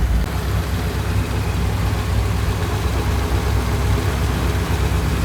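A Camaro's small-block 305 V8 engine idles continuously with an even, steady, low rumble, nearby and unbroken, no voices.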